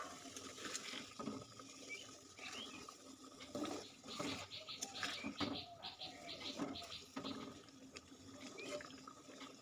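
Broth is poured into a pan of simmering katla fish curry, giving a soft, continuous trickling and pattering of liquid with faint bubbling, heard quietly at close range.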